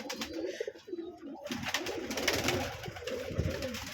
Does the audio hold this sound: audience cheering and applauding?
no